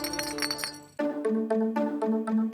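Glass bottles hung on a farm fence as a wild boar deterrent clink against each other in a steady run of close, bright chinks, with a quieter stretch of clinking before a sharp jump to louder, ringing strikes.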